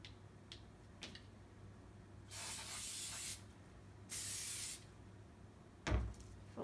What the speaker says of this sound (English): you got to spray them a tiny bit.